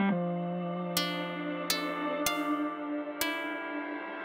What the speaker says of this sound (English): If you want to reverse anything, you just right-click and then reverse IR, and that'll give you the backwards reverb.